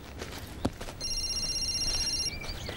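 A telephone rings in a film set in summer Paris: a steady electronic ring tone starts about a second in and holds for roughly a second and a half before stopping, over a quiet room with faint background noise.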